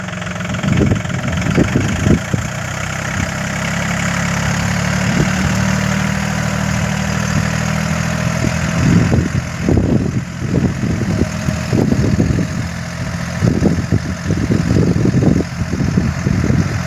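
Tractor engine running at a steady idle-like drone while sowing Ankur KDS 726 soybean seed on a wet field after rain, close and continuous, with intermittent knocking and rattling from the seeding equipment.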